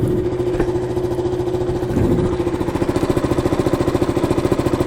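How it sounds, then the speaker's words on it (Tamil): A KTM Duke 200 motorcycle engine idling close by, a steady low chugging with a brief blip around the middle, then an even pulsing rhythm to the end, no voices. "இப்போ என் வண்டி நாய்ஸ் உங்களுக்கு கேட்கும்னு நினைக்கிறேன்."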